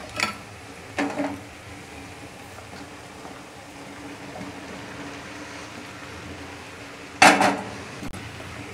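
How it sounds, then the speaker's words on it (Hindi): Fried mixed vegetables are stirred into tomato masala in a pan, with a soft background sizzle and a few sharp clinks of spoon against metal, loudest near the end. "अब इसमें हम फ्राई की हुई अपनी सब्जियों को डालकर मिलाएंगे।"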